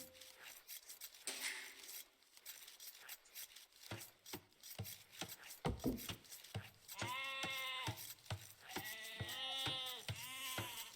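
Sheep bleat in Age of Empires II on a Megarandom map, several wavering calls repeating over the last few seconds, layered over dry rubbing and clicking game sounds.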